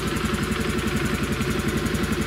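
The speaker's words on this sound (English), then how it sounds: "Start the bike." A Honda Vision 110 scooter engine with an engine management fault runs at a steady, close idle with an even mechanical throb and light clatter, and no voices are heard.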